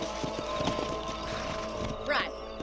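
Horse hooves clip-clop in the Red Dead Redemption video game, a steady clatter of steps over a busy game soundscape, with a brief whinny-like sound near the end.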